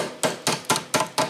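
Five sharp metallic body hammer blows knock a car floor pan's sheet metal into shape in a steady rhythm, each ringing briefly before the next strike.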